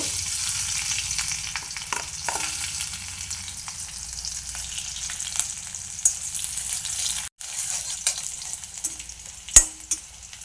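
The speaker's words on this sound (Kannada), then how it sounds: "ಬೆಳ್ಳುಳ್ಳಿ ಫ್ರೈ ಆಗುವಾಗ" Garlic frying in hot oil in a pan, a continuous close sizzle with occasional stirring clicks and one sharp knock, no voices.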